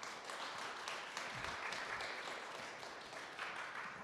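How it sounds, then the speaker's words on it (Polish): Applause from an audience at a talk, steady clapping sustained throughout at a moderate distance. "Duże brawa."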